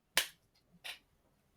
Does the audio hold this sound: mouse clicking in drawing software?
no